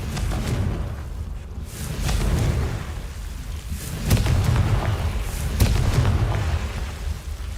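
Explosion spells going off in a video game, a string of muffled booms and bursts with whooshing swells at irregular intervals, moderately loud over constant game ambience.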